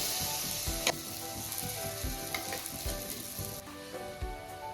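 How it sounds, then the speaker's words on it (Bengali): Green pea paste sizzles and spits in a hot kadai with ginger-garlic paste and spices, a loud, continuous frying crackle with small pops and stirring clinks, with no voices. "এখন আমি কড়াইশুটির পেস্টটাকে দিয়ে দিচ্ছি"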